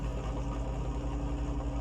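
Low, steady idle of an old-school BMW engine in Car Mechanic Simulator 2021, a smooth rhythmic hum with pulsing low tones, quiet and alone.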